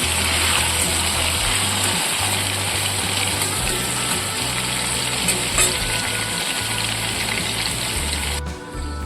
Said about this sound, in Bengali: কুমড়ো ভাজা হচ্ছে